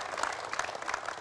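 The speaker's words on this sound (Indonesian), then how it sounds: "Boleh dong tepuk tangan luar biasa ya" Steady audience applause at a talk, with dense, even clapping filling the whole moment, no voices standing out.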